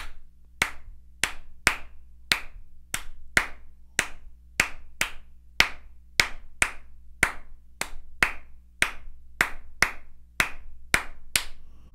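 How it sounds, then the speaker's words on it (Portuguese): Crisp hand claps repeat in a steady, syncopated pattern, about twenty sharp claps in a clear coco rhythm clave, close and alone. "que é a clave das palmas"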